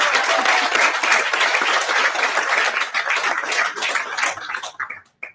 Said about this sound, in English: So can we just give Bonnie a round of applause?